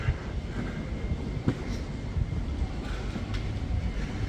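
A train rumbles steadily nearby at Crewe railway station, with low rolling noise and a few faint clicks and clanks along the rails.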